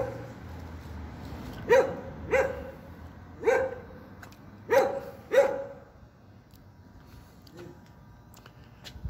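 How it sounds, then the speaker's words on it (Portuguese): A small dog guarding a property barks five sharp times in quick pairs, then gives a couple of fainter yips. The barks sound fairly close, with a quiet outdoor background on a street sidewalk. "O cachorrinho tá cuidando bem da propriedade, olha só, não me deixa em paz."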